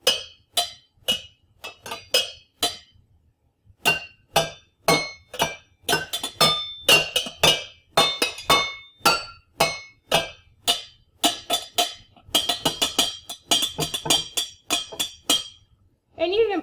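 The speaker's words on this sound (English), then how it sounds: "You can also play on the glass jar." A glass jar struck like a drum, producing a long run of sharp, ringing clinks with bright overtones, played in irregular rhythmic bursts that speed up into rapid flurries, close and fairly loud with no voices.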